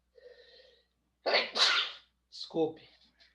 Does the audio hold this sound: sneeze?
yes